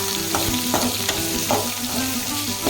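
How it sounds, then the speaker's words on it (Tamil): Sliced large onions frying in a pan for a Salem-style tomato chutney, a close, loud, continuous sizzle with the occasional scrape of stirring and no talking. "இப்போது நம்ம கட் பண்ணி வச்சுருக்கிற அந்த பெரிய வெங்காயத்தை சேர்த்துக்கலாம். அதையும் ஒரு 2 நிமிஷம் நல்லா வணக்கிக்கோங்க."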